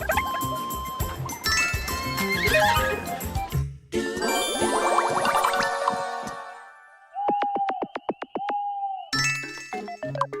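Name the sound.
horse dialogue sounds from the video game Miitopia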